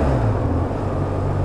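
A BMW R1150R boxer motorcycle engine hums at a steady low idle under a bridge, a deep continuous throb close by with no clear rise in pitch.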